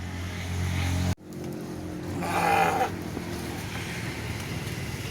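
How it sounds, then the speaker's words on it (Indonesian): Goats bleat at a seller of sacrificial goats for Qurban in Jember, with a drawn-out bleat partway through over steady background noise after an abrupt cut. "Mungkin ada pemirsa yang berminat ke tempat Pak Adi untuk beli kambing ini"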